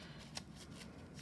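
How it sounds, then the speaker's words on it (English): Sharp art-teacher scissors snip through thick construction paper folded into many layers for a paper snowflake, giving a few faint, evenly spaced crisp cuts over a soft background hiss. "Just carefully cutting out my shapes."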